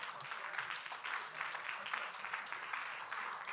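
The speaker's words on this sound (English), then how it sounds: "May I ask you all to stand up and round of applause for yourself" An audience at a CV and job seminar applauds themselves while standing, producing fairly quiet, steady clapping that carries on throughout without a break.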